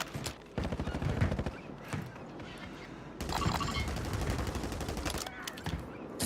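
Rapid gunfire in Call of Duty Warzone comes in bursts of sharp repeated shots, loud and close, separated by short pauses, over a game's background noise.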